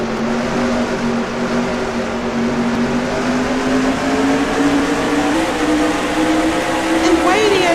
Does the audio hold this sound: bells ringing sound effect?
no